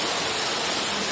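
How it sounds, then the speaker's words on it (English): Canto Lampo Waterfall in Bali: a dense, even roar of falling water, loud and constant across the whole stretch, with no voices audible. "You have arrived at Canto Lampo Waterfall."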